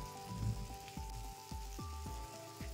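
Onions and chopped tomato fry in a pan, a steady soft sizzle with faint clinks and scrapes of stirring, close by and fairly quiet, no talking.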